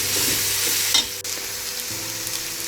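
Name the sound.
onions frying in oil and being stirred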